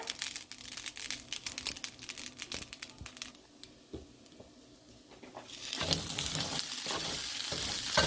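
Food dropped into a preheated pan and stirred, with scraping and crackling clatter at first, then a steady, brighter sizzle that swells louder toward the end.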